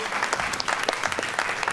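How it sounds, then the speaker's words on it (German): Bidders at an art auction give a short burst of dense, close applause lasting under two seconds. "Ja, das ist ein Applaus wert."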